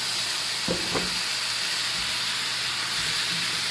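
Pork chop juices sizzle in a hot pan: a steady, bright frying hiss fills the clip, with a couple of brief clinks near the start and no talking.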